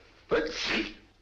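A single sharp sneeze, close and sudden, with a quick intake and a breathy burst, then quiet.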